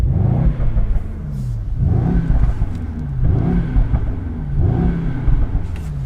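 A Mercedes E63S in race mode revs up to its soft limiter at 4,000 RPM, heard up close. The deep engine rumble swells and falls again in four even, repeated pulls.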